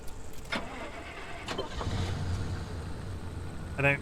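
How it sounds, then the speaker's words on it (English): A car engine in the video game Pacific Drive cranks and turns over, settling into a low rumble, with brief voices and clicks around it. "Start the engine, wipers on, turn on."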